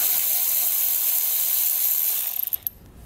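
Ratchet wrench loosens a 10mm bolt on a 2022 Buick Encore GX, heard as a steady mechanical whir that ends in a quick run of close, sharp clicks, with no talk.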